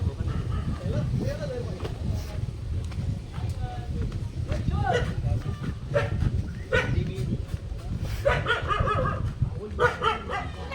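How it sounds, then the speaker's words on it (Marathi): A dog barks several times outside a house during Rangpanchami colour-play, the barks close but mixed under people talking and moving around. "कुत्रा आहे की काय?"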